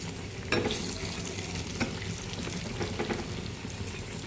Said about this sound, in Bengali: এই যে পকোড়ার শেপ দিয়ে ভাজা শুরু করেছি